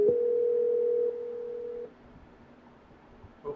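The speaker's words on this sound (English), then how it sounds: "Get ready to make that phone call." A Skype call tone sounds as one steady, loud electronic beep that drops in level partway through and then cuts off, leaving a quiet line with a faint click at the end.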